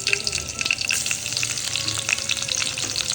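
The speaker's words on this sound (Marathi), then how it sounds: "आता फोडणी देऊया आपण" Tempering spices crackling and sizzling in hot oil in a home kitchen, a dense close frying hiss with scattered sharp pops and spatters, continuous and without speech.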